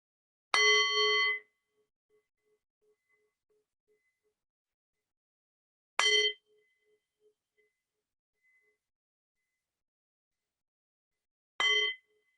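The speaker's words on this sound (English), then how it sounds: "we'll begin with the sound of 3 bells" Three resonant meditation bell strikes, spaced several seconds apart, each ringing out with a bright metallic tone that fades into silence.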